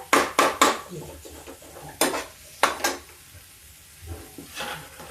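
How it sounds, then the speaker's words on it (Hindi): A spoon scrapes and knocks against a pan as masala is roasted for baingan bharta, with sharp metallic clanks in quick bursts near the start and middle and a soft sizzle underneath. "ये मसाला हम भून रहे हैं।"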